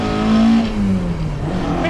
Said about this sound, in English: Let's give it some RPM.